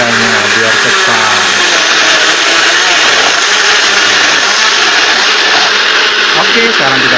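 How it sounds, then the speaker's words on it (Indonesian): An electric blender whirring at raised speed as it blends ingredients for a home remedy, a loud, steady, continuous motor drone that lasts the whole stretch without pause. "kalau kurang kencang boleh blendernya kita tambah tenaganya biar cepat"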